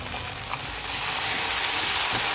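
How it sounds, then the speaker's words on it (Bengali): Onion that has been frying in a pan sizzles steadily after tomato paste is added, a dense, close, even hiss that grows slightly louder and keeps going without a break. "পেঁয়াজটা এখানে মোটামুটি ভাজা হয়ে গেছে, আমি এবার এখানে টমেটো পেস্টটা অ্যাড করে দিলাম"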